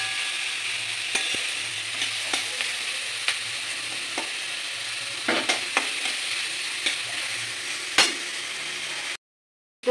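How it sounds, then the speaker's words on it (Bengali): Sabu pulao for Shivaratri fries in a pan over raised heat, a steady low sizzle broken by occasional clinks and scrapes as it is stirred, ending in a sudden cutoff. "এবার আমি একটু আঁচ বাড়িয়ে থালা দিয়ে আর একটু ভালো ভাজা ভাজা করে নেবো।"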